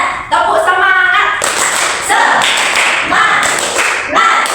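Schoolchildren in an Indonesian classroom clap a rhythmic 'tepuk semangat' cheer, bursts of claps and taps in a patterned beat, with young voices chanting along.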